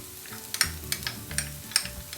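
Stuffed mushroom filling with melting mozzarella sizzles quietly in a pan, with a soft crackle and scattered light clicks and scrapes from stirring.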